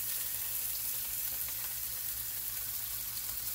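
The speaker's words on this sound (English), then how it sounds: "to hear that sizzle" About 15 to 20 pieces of chicken searing in a hot pan for Sunday dinner, a steady, dense, loud sizzle with fine crackle that holds unbroken throughout, with no voices.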